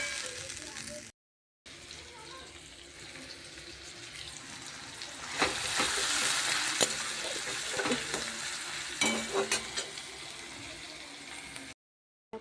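Onion, ginger and garlic paste sautéing in a pan, a soft sizzle with intermittent stirring and scraping, growing louder midway, with brief silent gaps and faint talk.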